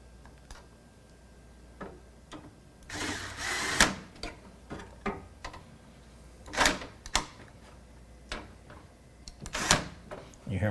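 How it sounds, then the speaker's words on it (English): An electric screwdriver drives screws into a Gigabyte Z390 AORUS PRO WiFi motherboard during a PC build, its clutch clicking off at torque setting 3: a run of sharp, close ticks and clatters, with short bursts of whirring between them. "You hear my screwdrivers automatically shutting off when it hits that torque setting of 3"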